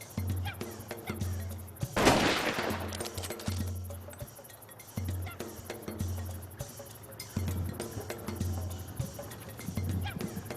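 A single sharp rifle shot cracks out during a sable hunt in Tanzania, loud and sudden amid quiet outdoor ambience with faint rustling and scattered clinks before and after.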